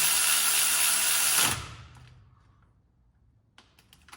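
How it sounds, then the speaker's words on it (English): A Mac cordless torque wrench tightens a fastener on a V engine with a loud, steady mechanical whir for about a second and a half, then stops abruptly, leaving quiet room noise and a few faint clicks. "Mac's new cordless torque wrench."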